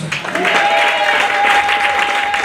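A church congregation claps and cheers in acclaim, loud, dense applause that is sustained throughout, with voices and a high sustained tone mixed in.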